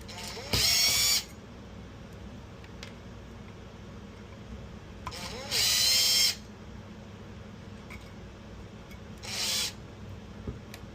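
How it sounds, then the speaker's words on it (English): Screws are backed out of a Greenwald Industries coin slide with a power screwdriver: three short bursts of high whirring, each lasting about half a second to a second, separated by quiet pauses with faint handling clicks. "Again, we're going to take out the 2 screws."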